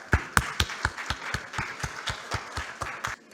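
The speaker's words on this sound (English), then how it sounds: "Please give her a huge round of applause." Audience applause at a college-to-corporate HR summit with a Toastmasters contest. A dozen or so clear, fairly close claps come in a loose, steady rhythm over a light bed of clapping, with no voices.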